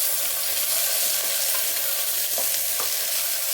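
Onions with ginger-garlic paste fry in a pan in a loud, dense, unbroken sizzle, with a few faint stirring scrapes underneath.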